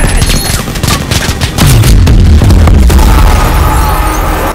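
A loud explosion in the VR shooter Blood and Truth, a heavy rumbling boom that swells after a stretch of gunfire-like crackle and then holds as a sustained low roar.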